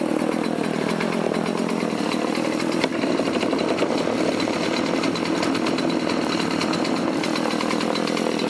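A Stihl MS180C chainsaw runs steadily and close by, a loud continuous buzzing whine that holds at an even pitch throughout with no voices.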